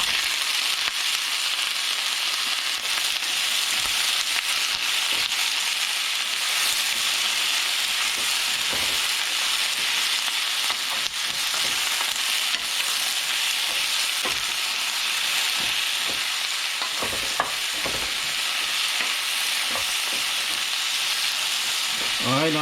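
Vegetables hit a hot pan with garlic for a scrambled egg with cucumber dish, giving a loud, dense, continuous sizzle with occasional stirring clicks, close and steady throughout.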